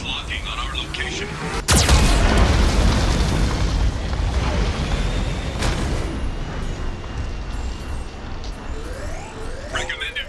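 Geth cannon blasts in the Mass Effect 2 video game: a sudden loud boom near two seconds followed by a sustained roaring explosion wash, with another sharp hit midway and faint alarm-like tones near the end.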